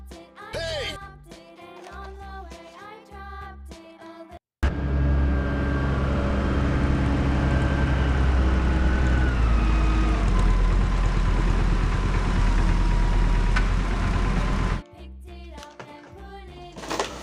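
A toy wheel loader plays a loud, steady engine rumble that lasts about ten seconds without a break. The drone is close, with background music on either side of it.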